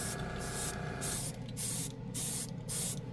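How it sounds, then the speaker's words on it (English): An aerosol can of Tamiya spray paint hisses in several short bursts with brief pauses between them, close and loud, and no one speaks. "This is Tamiya spray can."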